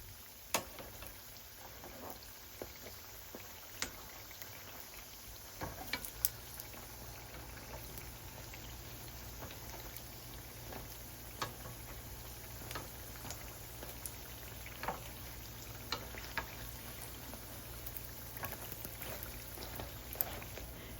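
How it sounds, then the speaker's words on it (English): Samosas wrapped in egg roll wrappers frying in a deep pan of oil over medium-low heat, giving a steady soft sizzle and bubbling with scattered small pops and crackles throughout, no voices present. "fry these samosas on medium-low heat."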